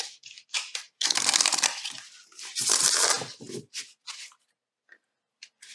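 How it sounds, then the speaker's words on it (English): A tarot card deck being riffle shuffled by hand: a few quick ruffling bursts of cards flicking together, followed by softer taps and clicks as the deck is squared, close and fairly quiet. "I prefer to rifle shuffle this deck."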